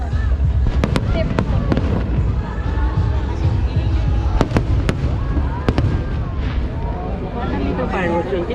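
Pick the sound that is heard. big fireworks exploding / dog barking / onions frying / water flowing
big fireworks exploding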